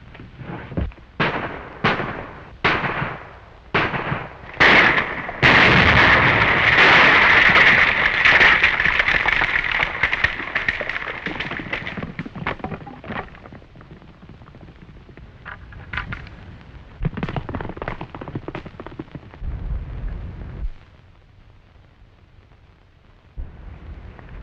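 Dynamite blasts and gunfire in a 1937 western shootout: a rapid string of sharp shots opens into a long, loud, rumbling explosion, then more scattered shots and bursts that fade toward a quieter close.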